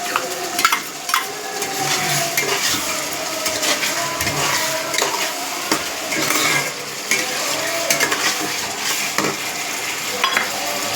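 Ground spice paste of ginger, garlic and chili stirred in hot oil in a pan for a rohu fish curry: a constant loud sizzle with frequent scraping utensil strokes against the pan.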